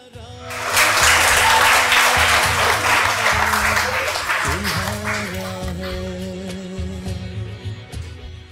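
Sustained audience applause at an Independence Day celebration sketch, surging quickly into a dense wash of clapping that holds steady and slowly thins toward the end, with low tonal sounds running underneath.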